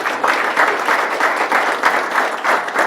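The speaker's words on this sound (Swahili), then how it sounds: "Asimame tumpigie makofi." A crowd gives dense, steady applause for Omondi, a Harambee Stars football player, with many hands clapping close together at an even loudness for the whole stretch and no clear talk over it.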